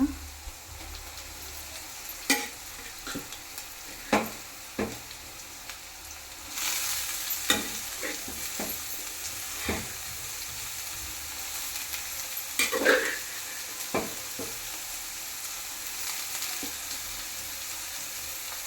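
Dill greens roast in a hot pan with a soft, steady sizzle and scattered sharp taps and scrapes of stirring; the frying swells louder partway through and stays close and continuous.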